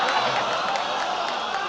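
Audience at a Kumar Vishvas poetry performance at IIM Calcutta cheering and applauding, a dense, steady wash of crowd noise with shouts and clapping throughout the short stretch.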